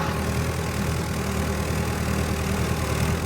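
A heavy diesel engine of a Sonalika 60 tractor idles loudly and steadily nearby, with a constant low rumble and rapid knocking throb throughout.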